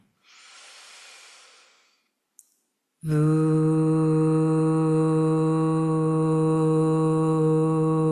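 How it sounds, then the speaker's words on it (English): A long, deep inhale drawn as part of a guided breathing exercise, a soft breathy hiss lasting about two seconds, followed by silence and then a sustained tonal hum that carries to the end. "So go ahead and take a nice big inhale now."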